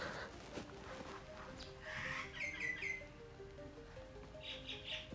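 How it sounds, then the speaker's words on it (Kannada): Birds chirp outside a small house, a series of short tweets and calls at moderate distance over quiet indoor room tone, with a brief cluster of rapid chirps midway and another call near the end. "ತುಂಬ ಸಖತ್ತಾಗಿ ಕೇಳಿಸ್ತಾ ಇದೆ ಎಲ್ಲ ಹಕ್ಕಿ ಸೌಂಡ್."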